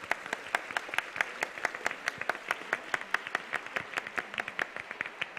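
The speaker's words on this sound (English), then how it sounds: "A big round of applause for all the postdoctoral fellows" Convocation audience applauding postdoctoral fellows, steady claps with sharp, regular beats throughout, moderately distant in a large hall.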